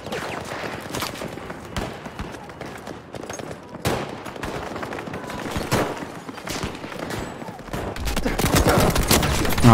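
Dense gunfire in Battlefield V, set on the Rotterdam map, with rapid overlapping shots and bursts throughout and a loud volley near the end; a voice talks intermittently over the shooting.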